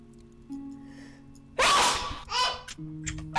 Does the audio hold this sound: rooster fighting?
no